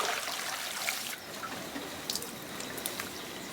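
Water splashes and drips from cabuya cactus fiber as it is rinsed during handcraft preparation in Ecuador, a steady close wash of liquid with scattered sharper drops.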